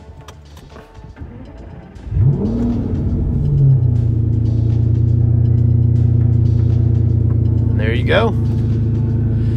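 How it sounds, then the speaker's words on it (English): Aston Martin Vanquish V12 cold start: the starter whirs, then the engine catches with a loud rising flare and settles into a steady, deep idle rumble, with a brief spoken remark before it. "we'll do a startup sequence"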